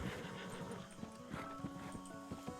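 A horse in the RedM western game whinnies faintly amid hoof clatter during a bank robbery scene, distant and low under a busy background.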